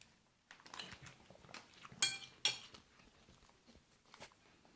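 Fruit punch MRE drink powder being mixed inside its plastic pouch: faint, irregular rustling and crinkling with a couple of sharper crackles partway through, no voices.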